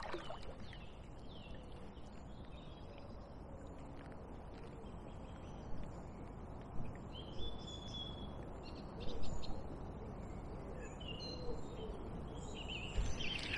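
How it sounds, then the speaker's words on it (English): Birds calling and chirping near the water on a quiet weekday paddle, scattered bright calls over a soft watery background, with a few light bumps and splashes from a kayak. "If I down paddle, should be able to hear the bird song."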